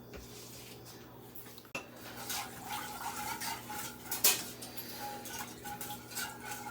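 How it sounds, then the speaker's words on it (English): A whisk scrapes and clinks against the bottom of a pot of broccoli and cheddar soup in quick, irregular strokes, close and fairly quiet, with no talking. "We're going to switch into a whisk. And we just want to be able to scrape the bottoms."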